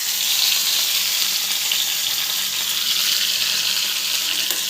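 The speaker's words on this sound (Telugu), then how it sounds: "అదే ఆయిల్లో టమోటా వేయాలి." Tomatoes frying in hot oil with a steady, close sizzle that holds at the same level throughout, no one talking over it.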